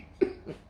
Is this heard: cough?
yes